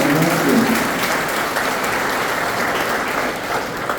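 Sustained, hearty applause from a seated audience of students at a college guest lecture, honouring IPS officer Priyanka Mohite, with a steady even wash of claps throughout.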